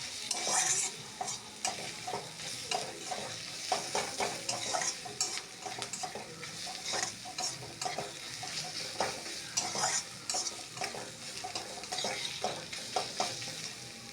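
Onion, tomato and green chilli stir-fried with ground cumin and other spices for an egg soyabean curry, sizzling loudly up close while a spatula scrapes and clatters against the pan in a quick, repeated rhythm, without any talk.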